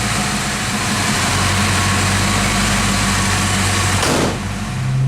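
A Ford fox body Mustang engine drones loudly and steadily while driving, with a deep low hum and a short shift in pitch near the end.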